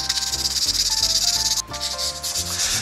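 Sandpaper rubbed by hand over a rusty knife blade in steady back-and-forth strokes, a close, loud rasping scrape with a short pause midway.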